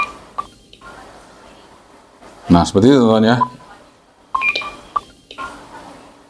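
A Quansheng UV-K5 handheld radio running IJV MOD firmware sounds its roger alarm, a short warbling rising-falling tone burst in the middle, with someone talking quietly before and after and small clicks around it.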